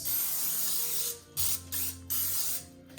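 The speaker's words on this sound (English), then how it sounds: "I'm gonna just put a little spray Pam on here so nothing sticks." Pam cooking spray is sprayed onto a large baking sheet in several short hissing bursts, close and fairly quiet, with brief pauses between each spritz.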